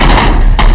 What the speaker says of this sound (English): Hit me with a shotgun.